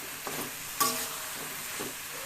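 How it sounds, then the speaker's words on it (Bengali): Potatoes and vegetables are fried and stirred in a pan for a fish curry, with a soft, continuous sizzle broken by a few scraping knocks of a spatula against the pan, and no voices. "ভেজে নিচ্ছি ভালো করে আর আলু একটু সিদ্ধ করা ছিল সেগুলো আমি দিয়ে দিলাম"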